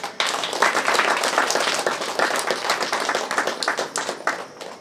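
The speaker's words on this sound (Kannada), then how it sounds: "ಚಪ್ಪಾಳೆ ಹಾಕ್ರಿ." A crowd claps steadily at a pyramid opening ceremony in Ballari, dense continuous applause from many hands, fairly near and loud, with no talk over it for the whole stretch.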